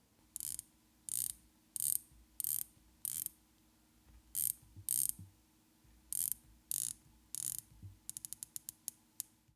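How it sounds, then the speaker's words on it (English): The 120-click unidirectional bezel of an inexpensive AliExpress dive watch is turned in quick bursts, each a crisp run of close, tiny ratcheting clicks, ending in a faster series of separate clicks. "The bezel itself has 120 unidirectional clicks, and the action is simply incredible."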